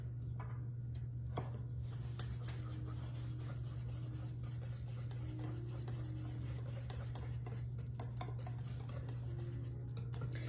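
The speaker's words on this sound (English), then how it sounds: "I'll grab my whisk" Cake batter whisked by hand in a bowl, heard as a steady, continuous scraping and stirring over a constant low hum.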